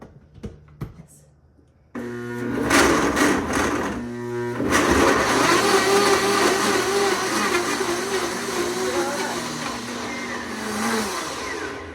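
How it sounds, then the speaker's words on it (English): A kitchen blender whirs loudly, blending mint drink ingredients after a few small clicks; it starts, pauses briefly, then runs again with a steady motor drone and shifting tone. "I'm just going to blend all of these ingredients up"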